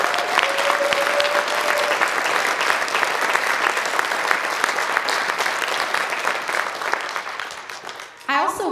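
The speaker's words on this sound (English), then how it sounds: "So please help me give them one more round of applause." A school concert audience at Montrose High School gives the band a long round of applause, dense and loud, rising to a steady roar, then fading near the end as a voice starts to speak.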